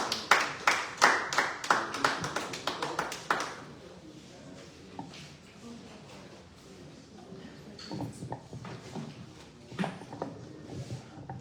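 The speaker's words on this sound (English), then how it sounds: "Please give him a round of applause." Audience applause for a speaker at a legislative internship reflection session: a few seconds of distinct, close individual claps that die out, followed by quieter room noise and scattered faint taps.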